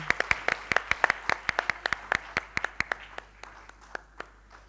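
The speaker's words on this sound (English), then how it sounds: "Can we please have a warm round of applause for him?" Audience applause at a Jain studies e-magazine launch and book release event: a steady run of distinct claps, fairly sparse and moderately distant, thinning out toward the end with no talk over it.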